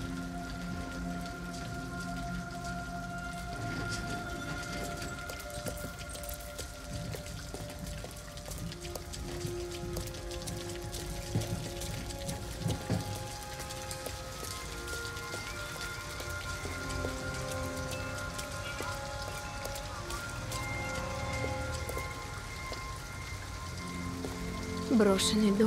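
Steady rain falls in a scene from the video game Detroit: Become Human, a continuous dense patter on surfaces that holds at an even level for the whole stretch, with faint tonal background layers beneath and no talk.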